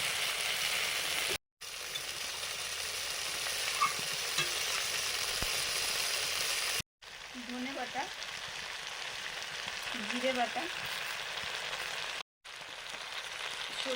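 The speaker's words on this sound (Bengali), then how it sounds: "মশলার সঙ্গে ফুলকপি আলু নেড়ে নেওয়ার পরে পরিমাণ মতো জল দিয়ে দিচ্ছি" Water goes into a pan of cauliflower and potatoes frying with spices, followed by a steady, close, hissing sizzle with soft stirring scrapes. The sound breaks off briefly a few times.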